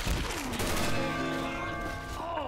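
Dense gunfire from a Left 4 Dead 2 zombie shooter, a continuous loud barrage of overlapping shots that runs steadily through the whole stretch with no pauses.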